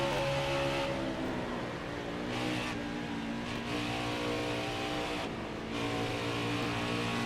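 A race car engine in the NASCAR Heat 4 video game at Indianapolis drones loudly and steadily at high revs, with slight dips in pitch through the corners and no talk.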